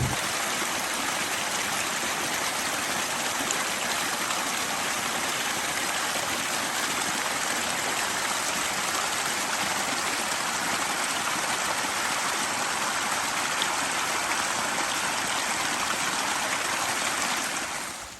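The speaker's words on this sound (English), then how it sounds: "A little mountain scenery with some water running out of the mountains." Mountain spring water runs steadily out of the Appalachian hills, a close, dense, even rushing and trickling that holds constant for the whole stretch with no voices.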